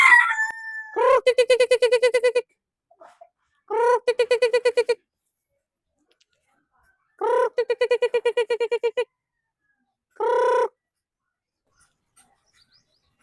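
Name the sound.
chickens and chicks clucking, rooster crowing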